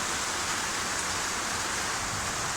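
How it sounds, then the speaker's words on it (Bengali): Heavy rain falling outside gives a dense, even hiss that continues without pause, steady and fairly close, with no talking. "বাইরে প্রচুর বৃষ্টি হচ্ছে।"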